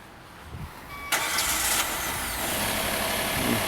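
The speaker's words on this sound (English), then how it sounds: "Go ahead and start up." A Hyundai engine with its intake cam solenoid grounded cranks briefly and catches, then settles into a loud, steady idle close by.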